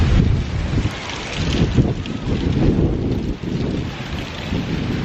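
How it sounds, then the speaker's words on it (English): Strong wind blowing on a beach, buffeting the microphone with a loud, continuous roar that swells and dips in gusts. "Wow, it's windy."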